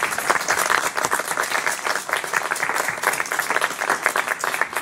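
Church worshippers applaud during a Sunday service, a lively, close round of many hands clapping in an uneven, bursting rhythm that carries on throughout.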